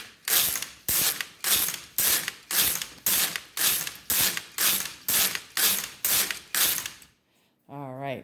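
A Brother LK150 knitting machine carriage is pushed back and forth across rows in a regular rhythm, a dozen loud, even mechanical ratcheting sweeps in quick succession, followed by a short pause and a brief tonal whir.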